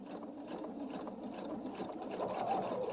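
A sewing machine runs a steady, quiet whirring stitch while sewing machine applique with a Sew Steady circles and straights tool, holding an even mechanical hum throughout with no voices.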